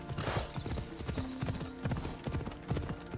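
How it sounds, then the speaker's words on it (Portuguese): Horse hooves clip-clop steadily in Assassin's Creed Odyssey, a rhythmic run of close, hollow hoofbeats at a brisk pace, with faint game ambience underneath. "O nosso cavalo. Nosso cavalinho."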